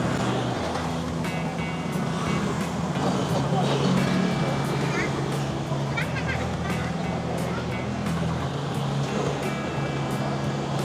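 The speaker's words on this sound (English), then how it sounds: "It's definitely pretty chaotic with all the scooters" Steady roar of traffic on a busy Taiwanese street crowded with scooters, engines droning continuously near and far beneath a background murmur of voices.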